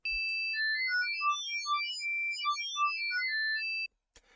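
A bright, high-pitched synthesizer melody tuned two octaves up plays a sequence of clean tones, ending abruptly followed by a few faint clicks.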